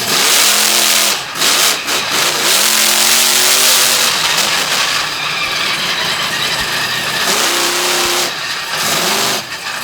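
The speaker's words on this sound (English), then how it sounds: "You can tell that truck is working well tonight." A monster truck engine at a Winchester event roars loudly and continuously through a competition run, with rising and falling revs and harsh mechanical clatter throughout.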